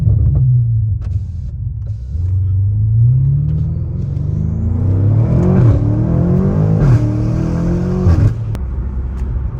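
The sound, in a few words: 850hp BMW M5 engine accelerating, high-pitched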